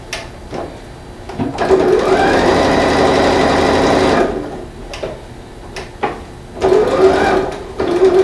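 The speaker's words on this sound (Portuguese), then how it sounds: "E vou dar a volta até chegar bem próximo da costura que eu fiz." A Lanmax sewing machine stitches fabric around a seam on a patchwork manicure or sewing kit case, running in a steady mechanical whir for a couple of seconds, then a shorter burst after pauses and clicks, close and loud.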